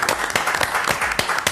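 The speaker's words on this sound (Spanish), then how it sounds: "Aplausos y muy buen trabajo." Studio audience applauding on an Argentine television variety show, a dense steady patter of many hands clapping close up, filling the whole moment without voices.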